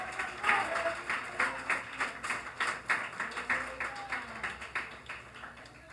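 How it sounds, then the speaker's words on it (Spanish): A church congregation claps during a Christian sermon, a steady run of rhythmic hand claps at moderate distance, with faint voices underneath. "Denle un aplauso al Señor."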